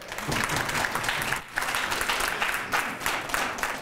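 An audience at a Guinean community conference in Montreal gives a dense, continuous round of applause, close and loud, with a brief dip partway through before the clapping picks back up.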